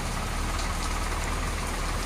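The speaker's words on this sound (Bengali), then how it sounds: "সাইড দিয়ে একটা ট্রেক্টরও যাচ্ছে।" A tractor rolls past on a rainy roadside near a railway crossing, its low engine rumble steady and fairly close beneath a constant wash of rain hiss, no voices.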